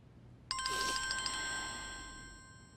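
A telephone rings once with a bright, electronic chiming tone that lingers and fades, faint against a quiet background.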